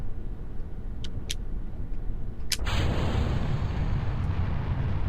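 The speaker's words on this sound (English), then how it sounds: "So this should be a pretty good rocket going up." A rocket launching in Kerbal Space Program, a space-flight game: a low rumble with a few sharp clicks, then a sudden surge into a loud, broad roaring thrust that holds steady, close and alone.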